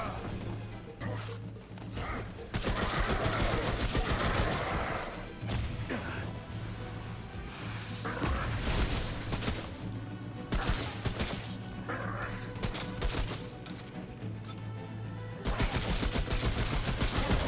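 Gunfire in the Remnant: From The Ashes video game, dense bursts of loud shots and crashing impacts across the whole stretch, with someone talking at times over the fighting.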